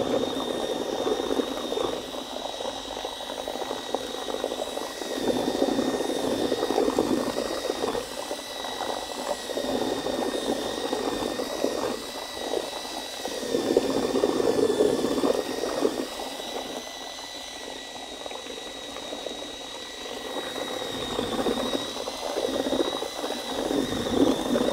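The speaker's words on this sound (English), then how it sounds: "Sorry about having to watch me mix" ARDEX floor leveling compound churned steadily with a power mixing paddle in a bucket, a continuous near whirring drone with wet sloshing and no talk.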